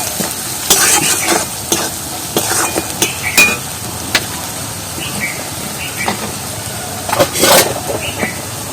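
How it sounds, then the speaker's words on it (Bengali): Turmeric and chili powder paste is stirred in a pan, a steady sizzle broken by repeated spatula scrapes and clinks against the metal, with a few louder knocks. "আর এই মশলাটা ভালো করে নাড়িয়ে নেবো।"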